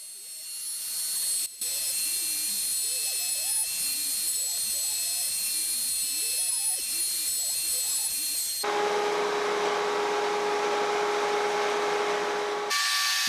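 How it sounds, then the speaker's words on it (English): Loud router table whine chamfering the edges of a maple and cherry cutting board, with repeated rising and falling cutting passes, then a shift to a steadier, harsher motor roar near the end. "Now I'll run it through the router table here, chamfer all the edges, and have a nice bevel on them."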